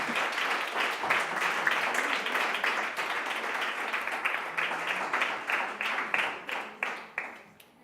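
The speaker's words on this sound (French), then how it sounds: "On peut les applaudir aussi pour leur travail." A television studio audience applauds guests for their work, with steady, close clapping that gradually thins into a few final claps and fades.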